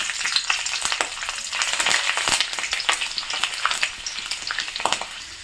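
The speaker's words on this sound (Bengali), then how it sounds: "তেল গরম হয়ে গেছে, এখন আমি কয়েকটা রসুনের কোয়া দিয়ে দেব।" Garlic cloves fry in hot mustard oil in a kadai, a dense, close sizzle crackling without pause, broken by frequent sharp pops and stirring scrapes, loud and unaccompanied by speech.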